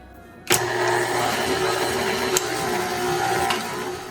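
An electric mixer whirs on suddenly and runs steadily, creaming butter with Lakanto Classic sweetener in a bowl, a loud close continuous motor drone with a couple of brief knocks.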